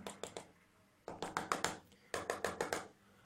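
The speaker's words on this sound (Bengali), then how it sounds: "কর্ভাস ঠোঁট দিয়ে হাততালির সঙ্গে তাল মিলিয়ে টেবিলের উপর ঠুকে চলেছে" A crow taps its beak on a table in time with applause, giving sharp, quick clicks in three bursts of rapid knocks separated by short pauses, close and fairly faint.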